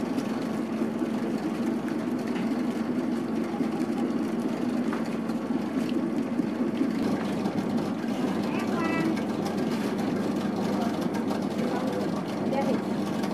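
A dough mixing machine runs with a steady, droning mechanical hum that holds at an even level from start to finish.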